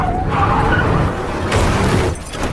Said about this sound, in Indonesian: Liz juga terkena tembakan hingga mobilnya terbalik